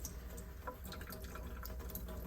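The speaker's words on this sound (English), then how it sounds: "put the palette underneath the water, take the brush, and stir the paint away" A paintbrush swishes and clinks in a cup of rinse water, washing paint away, with a steady wet churning that sits low and soft amid faint background noise.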